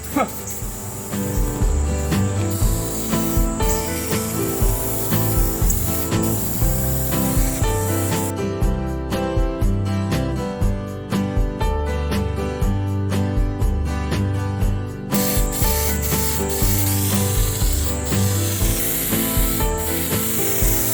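Spray gun laying a vermilion red base coat over primed work-truck parts, long hissing bursts of spray with brief pauses and some shop noise, fairly close and loud.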